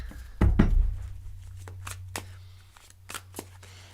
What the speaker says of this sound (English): the feeling of the cards as I shuffle them